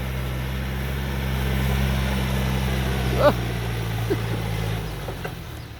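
A Yanmar EF514F four-wheel-drive tractor, used for hire to plough rice paddies, runs with a steady low engine drone, close and continuous, with a few faint knocks over it.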